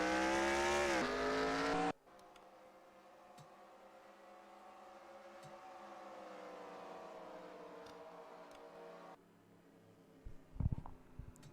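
Race cars in NASCAR Racing 2003 at Chicagoland, a loud engine drone for the first two seconds, then a steadier, quieter hum of cars running, with a few sharp bumps near the end.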